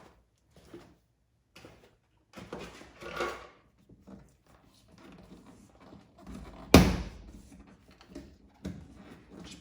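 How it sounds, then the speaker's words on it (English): Door panel being pried and pulled off a VW Bug: scattered plastic and wood-like clicks, scrapes and knocks, with one sharp loud snap partway through, set among quiet pauses. "So I'm gonna back off here and take off the rest of the door panel."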